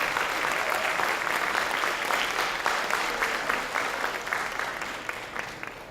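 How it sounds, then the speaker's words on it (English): Audience applause at a public school board meeting honoring students, a steady wash of clapping that gradually thins and tapers off toward the end. "so give them a big round of applause"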